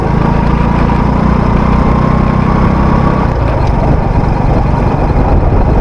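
A motorcycle engine runs steadily up close, a loud continuous mid-pitched rumble with slight vibration and no talking.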